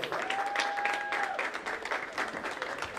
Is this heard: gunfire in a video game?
no